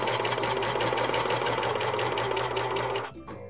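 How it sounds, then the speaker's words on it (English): A Viking Amber Air S 400 serger stitches muslin fabric with a steady, fast mechanical whir and hum running continuously, then slowing and stopping near the end. "And now we're ready to start sewing."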